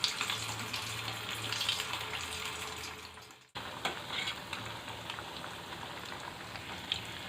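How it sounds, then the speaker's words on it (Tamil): Sabudana vada, the sago fritters also called javvarisi vadai, frying in hot oil, giving a dense continuous close sizzle that dips briefly midway before resuming just as strongly. "எண்ணெய் காஞ்சி வச்சு இப்போ நம்ம நல்லா போடும்"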